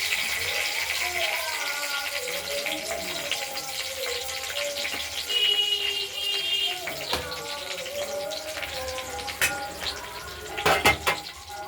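Cut potatoes tumble into a pan of oil tempered with bay leaf, cumin and dried chilli for a paneer and potato curry. Utensils clink and scrape in short bursts over a soft sizzle while the potatoes are stirred.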